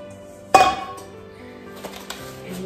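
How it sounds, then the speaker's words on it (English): A medium-sized mixing bowl is set down with one bright clinking knock, followed by a couple of softer taps and light handling sounds in a quiet kitchen. "now we're gonna take this medium-sized bowl"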